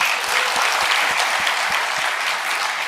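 Church congregation applauding together during a Sunday worship service, a steady wash of many hands clapping close and fairly loud, with a few low thumps pulsing underneath throughout.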